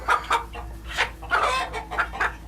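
A white leghorn chicken clucks close by in a series of short, sharp bursts, some clipped and some drawn out, against quiet background hum.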